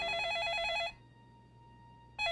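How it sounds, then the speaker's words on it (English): A telephone bell rings loudly in a warbling, trilling burst for about a second, falls silent, then starts ringing again at the end. "phone's ringing."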